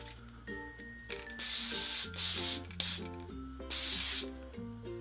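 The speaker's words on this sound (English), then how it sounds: "we're gonna take some hairspray and then just kind of scrunch it up" Hairspray misted over short, tousled hair in a couple of hissing bursts, heard close over steady background music.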